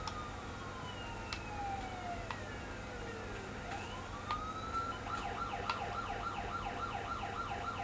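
Police siren in the Mafia 3 video game, a wailing tone rising and falling steadily, then shifting into a faster, rapid yelp pattern, heard at moderate distance over a low ambient rumble with no talking.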